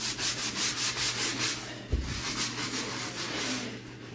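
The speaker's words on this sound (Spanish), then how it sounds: "Con tantito que le estoy tallando." Close, steady scrubbing of dirty floor grout, a brush rasping back and forth in rhythmic strokes with a brief knock near the middle and no talking.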